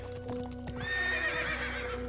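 Video game horse sounds: hooves clopping steadily beneath a loud, drawn-out whinny, the horse close by over a constant low background hum.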